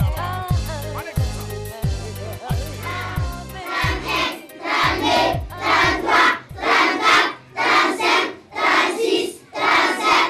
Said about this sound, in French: Bravo, on applaudit.